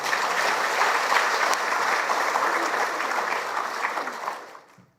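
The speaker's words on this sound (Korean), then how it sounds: "박수 한번 치세요" A church congregation applauds at an Easter Sunday service, a dense, sustained wash of clapping hands that fills the room for several seconds before tapering off at the end.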